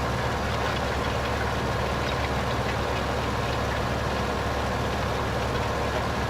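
A tractor engine in Farming Simulator 15 drones steadily throughout, a constant low idling rumble with no breaks and no talk over it.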